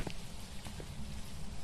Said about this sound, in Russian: Дождь снаружи идет такой